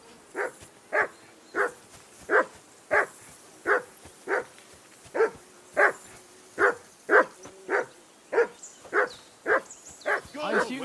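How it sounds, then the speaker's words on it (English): A dog barks over and over in Kingdom Come Deliverance 2, with about fifteen loud, evenly spaced barks in a steady rhythm. A faint in-game voice murmurs underneath near the end. "I assume you can hear that damn dog of yours barking."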